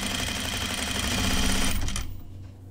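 A sewing machine runs at a fast, steady clip stitching men's Jutland pants, its close mechanical whir stopping abruptly near the end and leaving a quiet room.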